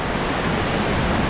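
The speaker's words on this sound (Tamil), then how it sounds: "சின்ன வாட்டர் ஃபால்ஸ் இது." A small waterfall on the trekking route to Jogini Falls near Manali, heard as a steady, loud, broadband rush of falling water with no pauses and no voices.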